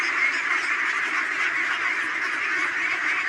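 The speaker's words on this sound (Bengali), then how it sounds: "খুবই সুন্দর হাঁস দেখেন" A flock of ducks by a riverbank quacks in a dense, continuous chorus that holds steady and fairly loud throughout, with no pauses or voices.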